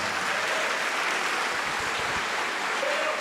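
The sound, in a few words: congregation applause in church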